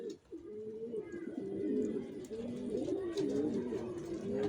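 Johnson line racing pigeons cooing nearby, a continuous overlapping run of soft, low, warbling coos from several birds, with faint background noise and no speech.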